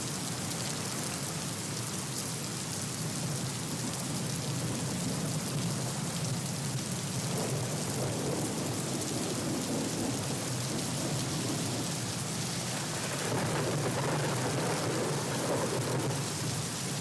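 Heavy cloudburst-like downpour over parts of Badnapur taluka in Jalna, a dense steady roar of rain with rumbling thunder underneath, loud and continuous throughout without any voices.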